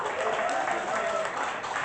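Audience at a poetry slam applauding a poet, a steady wash of clapping from a crowd that runs throughout, with a faint voice over it.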